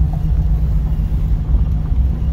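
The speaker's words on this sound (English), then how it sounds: "Now just a couple minutes later here going idling down the gravel road." A 1969 Camaro restomod with an LS3 V8 idles as it rolls slowly along a gravel road, producing a loud, steady low rumble that continues throughout with some wind buffeting.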